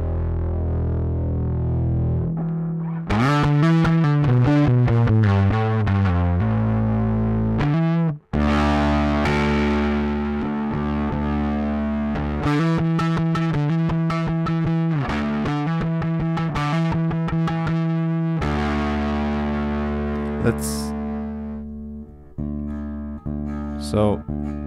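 Electric guitar through a Kasleder Albatross overdrive pedal with blend set fully left plays a loud, continuous riff with chugging chords and sustained notes, close and dense, tapering off at the end.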